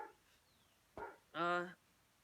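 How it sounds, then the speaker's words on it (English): Dogs bark in the background, a short sharp yelp followed by one fuller bark, faint and somewhat distant. "my dogs are barking"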